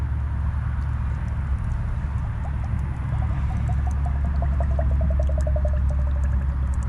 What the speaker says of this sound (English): You can hear it bubbling.